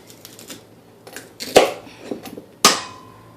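A knife chops through a hard raw sweet potato on a cutting board, giving two loud sharp thunks amid softer scraping and tapping, close by.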